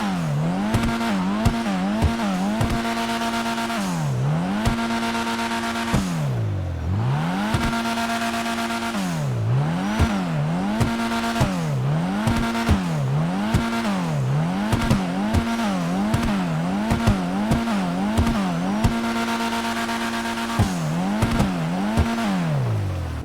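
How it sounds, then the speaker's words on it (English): Vapid Uranus Lozspeed car engine in a video game, revved repeatedly while standing still: loud rising and falling revs, some quick blips and some longer sweeps, close and continuous with no speech. "Let's hear how this vehicle sounds."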